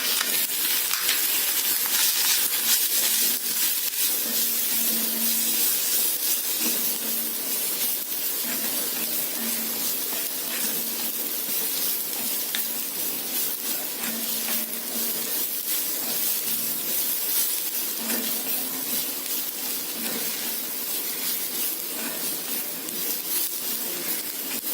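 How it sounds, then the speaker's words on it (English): Masalas sauté with spiny gourd (kantola) subzi in a pan, giving a steady, loud, close sizzling hiss that runs unbroken throughout. "Saute this till the raw taste of the masala goes off."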